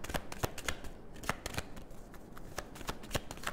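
Tarot cards are shuffled by hand, a quiet run of sharp riffling snaps and soft slides in irregular bursts, close and alone.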